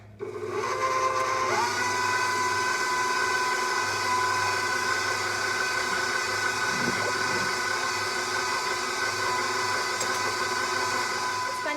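An electric mixer works naan bread dough in a bowl, a steady loud motor whine with strong tonal hum running continuously after a brief start-up.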